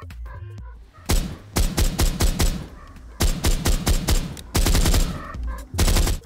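Rapid automatic gunfire from a multiplayer first-person shooter game, arriving in loud sustained bursts with short pauses between them, with a few isolated shots just before the first burst.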